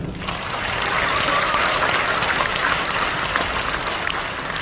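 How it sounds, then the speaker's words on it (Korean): Audience applause at a Korean business presentation, a dense steady patter of many hands clapping throughout, fairly loud and continuous with no talk over it. "박수 한번 주십시오"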